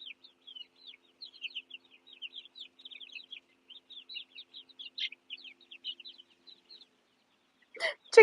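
Chickens outside make a long run of faint, quick, high chirping clucks at an even pace, ending in a sudden louder, harsher burst close by.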